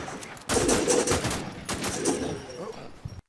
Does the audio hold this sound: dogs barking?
no